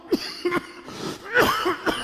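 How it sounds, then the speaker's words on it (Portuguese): A few short coughs, one after another, with a brief throat-clearing burst in between, close to the microphone. "desculpe essa tosse"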